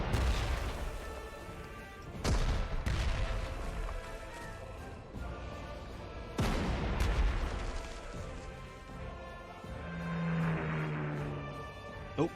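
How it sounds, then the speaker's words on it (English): Anti-aircraft guns fire in the WW2 strategy video game Panzer Corps 2, a few heavy booming shots spaced several seconds apart with rumbling tails, fairly faint. "AA fire."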